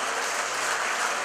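Wedding guests, relatives and friends together, applaud loudly in a dense, steady burst of clapping with no talk over it.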